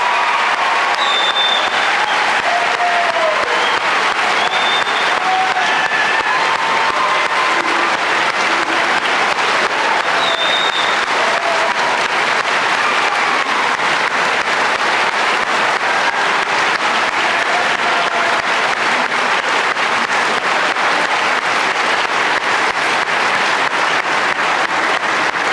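A high school graduation crowd applauds students headed to the Air Force, Navy and Army, long continuous clapping with scattered distant cheers and whoops mixed in, steady and full throughout.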